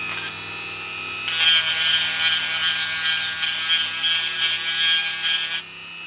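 A Dremel rotary tool grinds LEGO pieces flat in a shed workshop, giving a loud, steady, high-pitched grinding whine that lasts several seconds over a low background hum.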